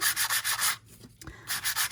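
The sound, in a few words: sanding paper with sandpaper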